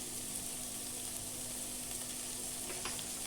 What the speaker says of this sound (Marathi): आलं लसूण चांगल्यापैकी परतून घ्यायचंय.